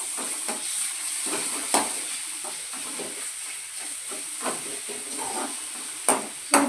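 Ginger garlic paste fries in a hot pan for boti gojju, a continuous hiss and sizzle broken by several stirring scrapes of a spoon against the pan, close and clear with no talking.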